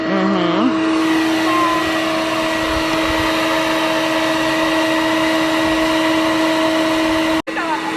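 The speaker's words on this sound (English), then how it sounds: "That's a vacuum sucking out air while it's filling up." A steady, loud mechanical drone of a vacuum pump sucking air from a filling tank runs throughout, with a constant whine, briefly cutting off near the end.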